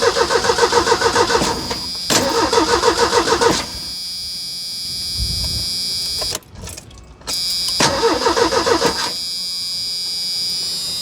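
A 1985 Merkur XR4Ti starter cranks loudly and rhythmically in two long bursts, separated by quieter clicks and hum, heard close up from inside the car.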